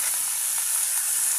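Dried meat tipped into hot oil sets off a loud, steady sizzle that stays dense and even throughout, with no talking.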